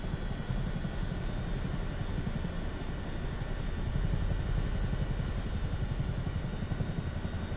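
Loud, close Chinook tandem-rotor helicopter: a steady roar of engine and rotor wash with a rapid, rhythmic low thumping from the blades throughout, and no voices.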